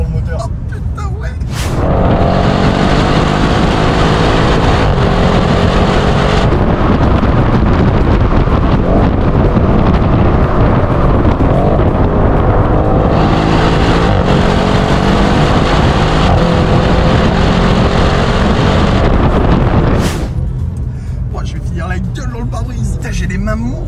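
Audi RS6-R tuned by ABT accelerating hard, a loud, continuous engine roar with wind rush that surges through most of the run and drops off near the end, with excited occupants talking over it.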